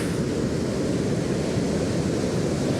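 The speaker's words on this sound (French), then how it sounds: "Il y a des vagues de ouf." Big ocean waves break on a Brazilian beach as a loud, continuous roar of surf, steady throughout with wind noise over the microphone.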